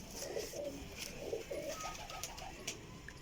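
Young Teddy breed pigeons coo in a low, soft series of rolling calls, close and steady, with no voices over them.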